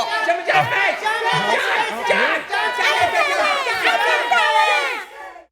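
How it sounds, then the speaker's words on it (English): A studio audience at a kids' show cheers and chatters at once, a dense crowd of shouting voices that holds steady for about five seconds before cutting off. "Start cheering now."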